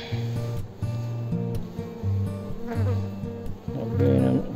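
Honeybees swarm around a hive during royal jelly production, giving a close, steady drone of buzzing wings that wavers in pitch as individual bees pass near, with no talk.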